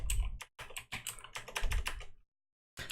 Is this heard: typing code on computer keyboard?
yes